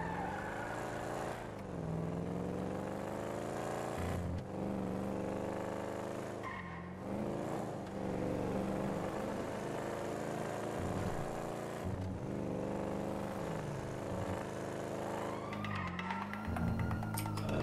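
A car drives in GTA V roleplay, its engine holding a steady hum that swells and drops with shifts and revs across the clip, loud and continuous, mixed with game music-like tones.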